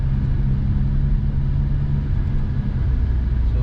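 Nissan R35 GT-R rolling along at low speed, a steady low engine rumble and drone holding evenly throughout with no revving, close and fairly loud.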